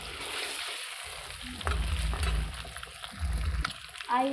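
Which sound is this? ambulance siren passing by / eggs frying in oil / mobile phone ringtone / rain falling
eggs frying in oil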